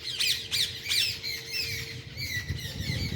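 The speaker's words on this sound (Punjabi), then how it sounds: "ਸਾਹਮਣੇ ਤੋਤੇ ਬੈਠੇ ਦੇਖੋ ਕਿੰਨੇ ਸਾਰੇ" Loud, harsh parrot squawks repeat in quick succession, several birds calling close by over a low background hum.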